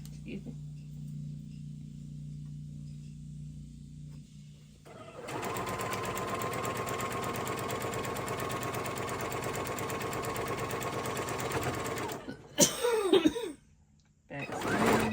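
A sewing machine back-stitches curtain fabric, a dense, loud mechanical whir running steadily for about seven seconds after a quieter stretch, then stopping, followed by brief rustling and handling noises.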